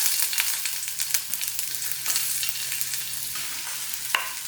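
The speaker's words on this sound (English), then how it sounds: "In a small pan with a teaspoon of oil, 1 green chili, 1 garlic clove that I saute first," A green chili and a garlic clove sauté in a teaspoon of oil in a small pan, producing a close, bright, crackling sizzle with a few sharp stirring taps over a few seconds.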